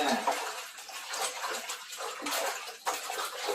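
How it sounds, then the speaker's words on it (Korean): Freshly picked pine shoots are rinsed under running water, a continuous close rush and splash of water that churns steadily as the shoots are handled. "이렇게 물로 최대한 헹궈서 이런 잎을 다 제거한 다음에"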